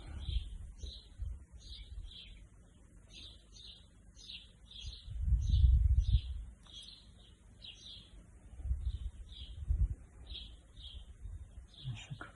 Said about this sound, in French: Il y a les oiseaux qui chantent chez moi, dans mon jardin.